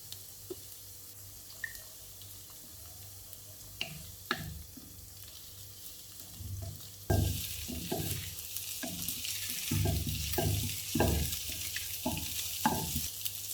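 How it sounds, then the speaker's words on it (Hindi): Cabbage, capsicum, carrot and onion stir-fried in a pan for Korean-style fried rice, with scraping spatula strokes over a steady sizzle that grows louder and busier partway through, no talking. "Cabbage, capsicum, onion. इनको 1-2 मिनट के लिए स्टर फ्राई कर लेंगे।"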